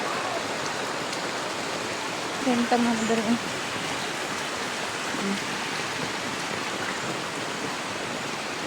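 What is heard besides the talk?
flowing floodwater in a village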